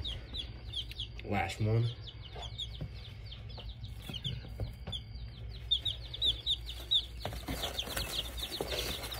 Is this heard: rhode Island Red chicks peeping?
yes